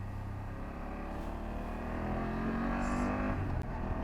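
BMW F800GS motorcycle engine droning steadily while accelerating, pitch climbing then briefly breaking as a gear shifts, close and continuous under wind rumble, no talk.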